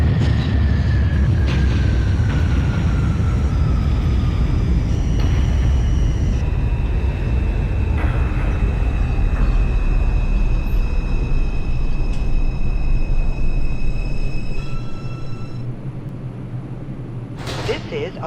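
An R142 subway train on the 2 line toward Wakefield in the OpenBVE simulator rumbles loudly and steadily along the track, with high whining motor tones gliding in pitch, before the roar eases near the end.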